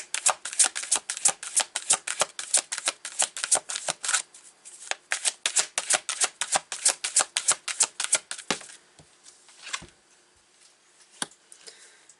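Tarot cards shuffled by hand in rapid, crisp riffling bursts close up, then a few softer slaps and taps as single cards are drawn and laid down, with no talking.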